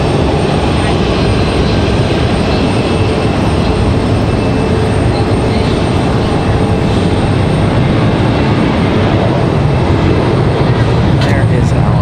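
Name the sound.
Boeing 737 Max 8 airliner at Raleigh-Durham airport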